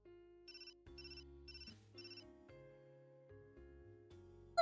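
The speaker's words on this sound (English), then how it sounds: "That's my phone." A phone ringtone announcing an incoming text plays a bright, synthesized melody of stepped tones with a short repeated chime figure, clear and close, with no talking over it.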